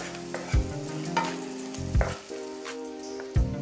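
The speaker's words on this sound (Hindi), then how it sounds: "1 प्याज को थोड़ा हल्का ब्राउन होने तक भुनेंगे" Chopped onion frying in a pan until light brown, a steady sizzle broken by three louder stirring scrapes against the pan, close and clear with no talking.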